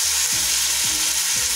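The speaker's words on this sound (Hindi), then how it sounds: "थोड़े से आलू मेरे फ्राई हो जाएंगे।" Potatoes frying in hot oil in a pan, a loud, dense, unbroken sizzle heard up close with faint scraping underneath.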